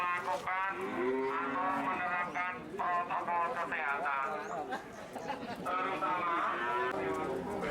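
Cattle mooing at the Gamping livestock market near Sleman, where cows and goats are sold before the Qurban holiday; repeated drawn-out moos carry over crowd talk and market bustle.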